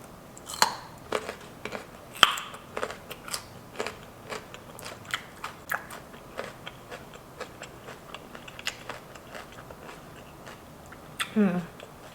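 Close, crunchy chewing of carrots dipped in ranch comes as a series of sharp, irregular crisp bites and munches with quiet gaps between them.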